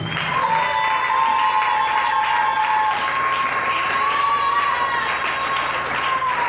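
Congregation at a church service applauds and cheers for the Lord Jesus Christ, a steady dense wash of clapping and voices sustained loudly throughout, with a sung or sustained tone running over it.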